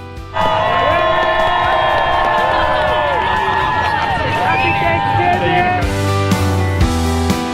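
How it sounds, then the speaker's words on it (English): Dense crowd at a New York Christmas parade cheering and whooping, loud high shouts and children's voices layered over one another, with some clapping and a noisier burst toward the end. "As you can hear, the crowd was really into the parade"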